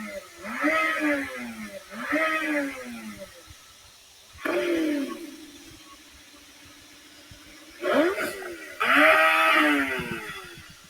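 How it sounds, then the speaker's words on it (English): Lamborghini Temerario bi-turbo V8 engine revving in separate bursts: two quick blips, a longer rev that settles to a steady idle, then two more rising revs, fairly close and clear with no talk over them. "let's see how the Temerario would sound as a V8 It's just bi-turbo."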